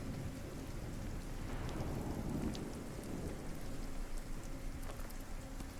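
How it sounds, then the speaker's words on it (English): Steady rainfall hisses continuously in the video game RuneScape: Dragonwilds, with a low rumble swelling in the background like distant thunder; no voices. "And of course it's raining."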